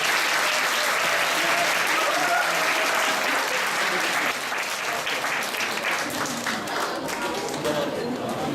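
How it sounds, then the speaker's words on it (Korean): A university lecture audience claps loudly to welcome a speaker, continuous dense applause filling the whole stretch and easing slightly in the second half, with some faint crowd murmur mixed in. "큰 박수로 맞이해 주시기 바랍니다."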